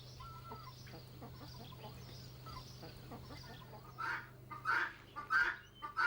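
Farm hens cluck in a farmyard, soft low murmurs at first over a steady hum, then a run of louder, closer clucks and squawks toward the end.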